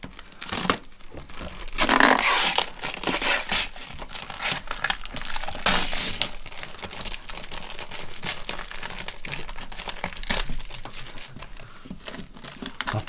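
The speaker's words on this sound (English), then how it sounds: "let me see if I can do a good job peeling this off" Protective film crackles and tears as it is peeled from a framed original Apple iPhone display, a continuous close crinkling with a louder burst early on, alone with no talk.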